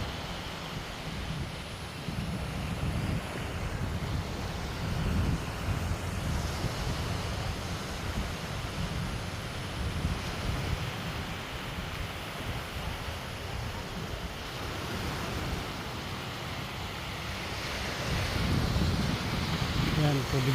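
Sea waves washing onto a shore of sand and large flat rocks, a steady low rush of surf and wind, fairly faint and continuous, swelling slightly toward the end, with a voice speaking briefly.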